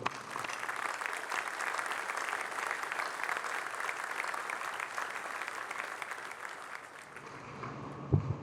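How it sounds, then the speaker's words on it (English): A crowd at a US Navy change of command ceremony for the USS Ronald Reagan breaks into sustained applause, a broad even clatter that holds for several seconds before fading out. "Please join me in a round of applause"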